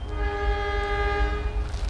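The Logawa passenger train sounds semboyan 35, a single sustained, loud, tonal horn blast heard from on board, held nearly two seconds over a deep rumbling engine and rail noise.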